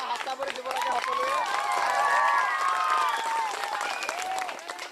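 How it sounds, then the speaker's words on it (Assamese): An audience applauding at a school event, a dense, steady patter of many hands clapping that swells in the middle and eases toward the end, with chatter and voices mixed in throughout. "ইয়াৰ কাৰণে এটা হাত চাপৰি দিব লাগে সকলোৱে"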